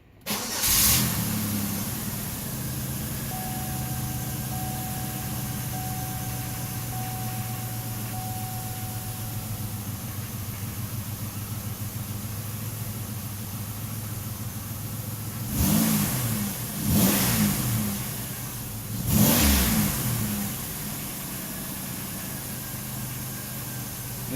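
A 2003 Chevrolet Impala engine cranks and catches, settles into a steady idle, then is revved three times in quick succession before dropping back to idle.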